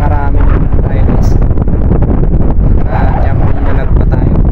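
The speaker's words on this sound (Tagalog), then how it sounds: "Grabe lakas ng hangin." Strong wind buffets an open boat on the water, a loud, continuous roaring rush with gusty rustle across the whole clip, people talking faintly underneath.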